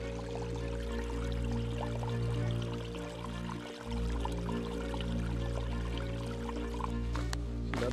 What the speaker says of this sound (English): Another little spring just north of dripping rocks